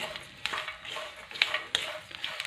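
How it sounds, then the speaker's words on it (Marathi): Sprouted moth bean chutney mixture with curry leaves being stirred and roasted over a low flame, soft scraping strokes and light clinks in an irregular rhythm over a faint sizzle, close and quiet with no voices. "कढीपत्ता घातल्याच्यानंतर आपल्याला परत कमी गॅसवरती छान असं सर्व मिश्रण हे एकसारखं हलवत भाजून घ्यायचं आहे"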